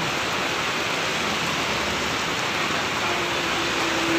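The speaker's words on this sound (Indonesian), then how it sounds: "Palembang hujan deras" Heavy rain pours down during an ALS 310 bus trip in Palembang, a dense, loud, unbroken hiss of rainfall and road wash heard close and alone throughout.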